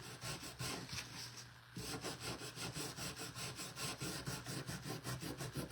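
Rhythmic back-and-forth strokes of sanding on a carved wooden Santa, a quick even rasping scrub repeating many times with a brief pause, close and fairly quiet.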